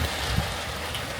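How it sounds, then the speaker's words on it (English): Steady rain falls outdoors, a continuous soft hiss of drops with a brief low thump, no voices. "It's raining and so cozy"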